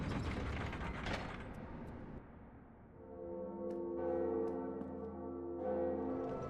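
A large bell tolls in Dark Souls after a burst of grinding, ratcheting mechanism noise, the resonant rings swelling and sustaining with a long humming decay, loud and reverberant.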